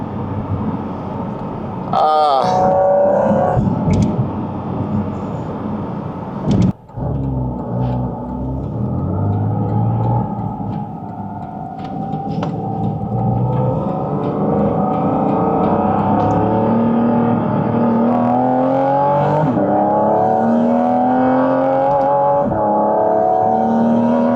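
Porsche 718 Cayman GT4 RS flat-six intake accelerating uphill, a loud, close engine roar climbing in pitch through several gear changes, with a brief clunk early on.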